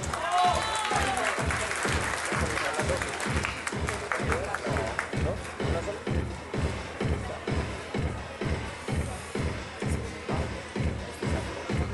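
Crowd applause at a Colombian national interclub beauty contest for athletes on stage, with steady rhythmic pulsing claps running throughout while an announcer speaks over it.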